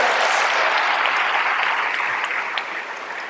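Sustained audience applause at a town hall, a dense steady clapping from a crowd that carries on throughout and tapers slightly toward the end.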